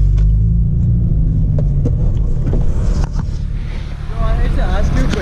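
A Camaro sits inside a roller car wash as heavy rumbling and churning from the brushes and water surround the car, loud and close, with a voice speaking over it.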